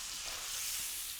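Steady sizzling of chicken breasts frying in a hot pan, a continuous soft crackling hiss with no talking.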